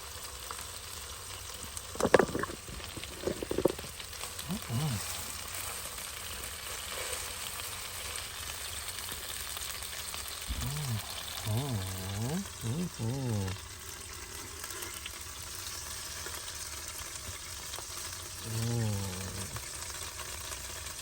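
Pork chops frying in a pan give a steady, close sizzle throughout, with a few louder clattering bursts and speech-like sounds rising over it midway and near the end.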